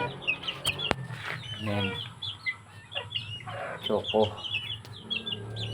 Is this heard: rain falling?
no